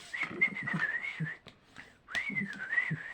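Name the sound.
person whistling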